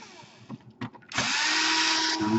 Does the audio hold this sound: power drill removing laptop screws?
yes